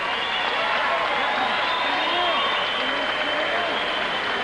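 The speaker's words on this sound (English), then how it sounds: "may we have a nice round of applause for both of these fighters" A boxing crowd applauds both fighters after the bout with a dense, even wash of clapping and cheering that holds steady at full volume the whole time, with no voice standing out.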